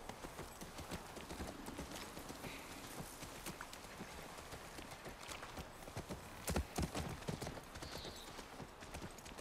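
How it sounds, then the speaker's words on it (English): Horse hooves clip-clop steadily in The Last of Us Part 1, a quiet rhythmic plodding over soft rain-like ambience, with a louder hoof strike near the end. "That's our horse."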